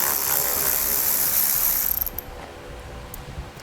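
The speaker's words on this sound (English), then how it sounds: "we're going to have 2 screws on the very bottom down here that we're going to remove. We'll be using a 7mm socket." A ratchet with a 7mm socket backs out screws low on a 2017 GMC Acadia during a base plate install, a dense clicking run that stops abruptly midway, followed by a few faint clicks and clunks.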